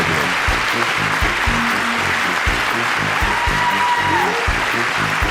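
Sustained crowd applause during a political speech to lawmakers, dense and steady throughout, with a few muffled voices mixed in.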